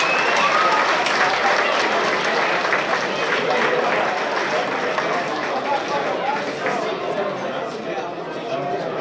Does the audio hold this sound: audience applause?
yes